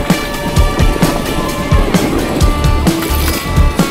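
Boat gliding across a river at sunset, with a steady wash of water and rhythmic knocking thumps close by, no voices.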